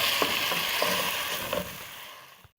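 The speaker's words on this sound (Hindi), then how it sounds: "अब इसमें मैं टमाटर डाल दूंगी और इसको मिक्स कर लूंगी।" Faint sizzling in a pan as tomatoes are added and stirred for homemade pizza sauce, with light rhythmic scraping clicks of the spoon before the sound cuts off.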